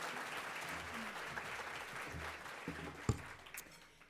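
Warm applause from a luncheon audience welcoming a speaker at a women leaders event, a steady wash of clapping through the whole stretch with faint voices mixed in.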